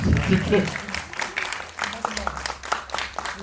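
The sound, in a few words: audience applause at film screening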